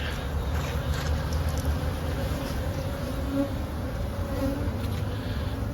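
Honeybees buzz steadily around a hive entrance, a dense, continuous hum of many insects close by, with no voices.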